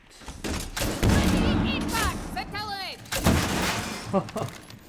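Rifle gunfire in a competitive video game match crackles in bursts beneath an excited commentator's continuous talk, with a few sharp reports and in-game sounds.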